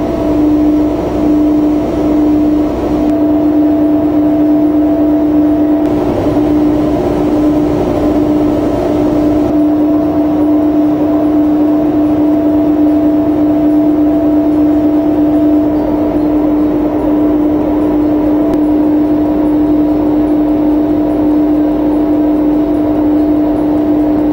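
A hydroelectric turbine and alternator turning at 97 rpm in the plant's basement give off a steady, loud, continuous drone with a strong low hum that never changes, alone with no talking.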